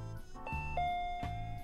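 A video game doorbell sounds a clear two-tone ding-dong chime, the pair of notes ringing out once and then again, close and alone with no talk.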